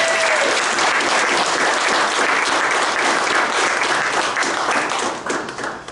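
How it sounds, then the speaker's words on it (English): Warm applause for graduates of a Project SEARCH class, a dense sustained round of clapping from the gathered room that holds steady for several seconds before tapering off at the end. "So give them a round of applause."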